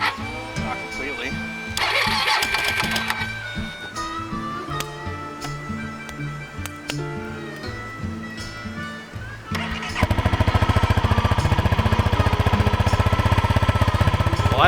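A carbureted single-cylinder dual sport motorcycle engine, frosty from a cold night, catches after music-like layered sound. Then it runs as a loud, steady, close thumping idle to the end.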